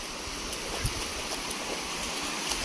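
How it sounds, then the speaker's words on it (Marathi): Water from a waterfall and stream in a rural fishing spot rushes steadily, a constant broadband wash with no voices and only small splashy surges. "धबधबा पण कमी झाला बघा."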